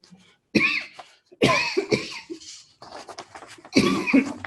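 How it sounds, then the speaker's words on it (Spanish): A run of several harsh coughs in quick bursts, close and fairly loud, separated by short pauses and some throaty breaths. "son una tos nerviosa"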